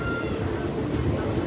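A DEMU passenger train rolls into platform 1 at Adoni station with a steady, low, continuous rumble, moderately loud and unbroken, with no talking.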